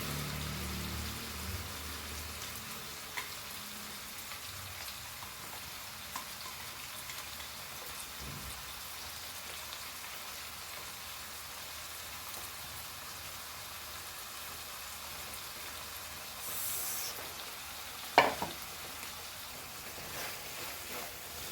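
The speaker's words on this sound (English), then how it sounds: "Fry this nicely." Masala frying in a pan for Goan prawn and cauliflower caldeen, a faint steady broadband sizzle throughout with a few brief clinks and a stronger scrape near the end.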